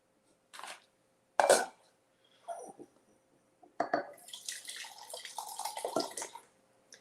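Liquid poured in short bursts into a pot of egg drop soup, splashing and trickling close by, with gaps of near silence between pours and a longer gurgling stream at the end.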